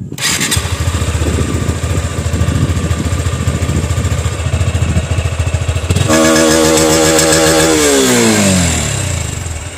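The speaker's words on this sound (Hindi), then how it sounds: "तो बाकी अगर हम बात करें इसकी एग्जॉस्ट की, तो वो कुछ ऐसी है।" A Honda CB200X motorcycle exhaust idles loudly with a steady, throbbing rumble, then blips into a few rising and falling revs near the end. No one speaks.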